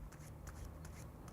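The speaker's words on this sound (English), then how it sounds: "I'm just taking the middle of the cards out and doing a overhand shuffle, an overhand shuffle here." Playing cards riffled through the hands in an overhand shuffle, a run of soft, quick papery flicks and rustles arriving in small bursts, close and fairly quiet with no talking.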